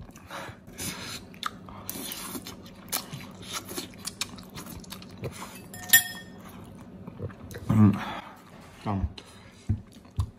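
Spicy Korean noodles being chewed and slurped up close, with wet bites, soft crunches and an occasional clink of utensils against a bowl, in an irregular rhythm.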